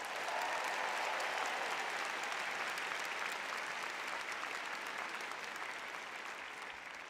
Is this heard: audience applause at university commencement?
yes